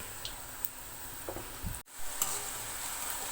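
Paneer pakora frying in hot oil crackles with a steady, quiet sizzle, broken by a few light ticks, a soft clatter and a brief drop near the middle before the sizzling resumes.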